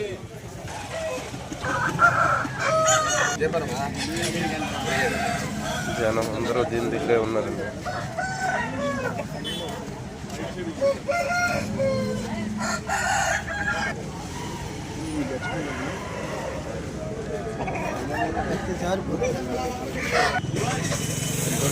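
Country roosters crow now and then amid clucking fowl at the Vijayawada native chicken market, set against a crowded din of people talking throughout.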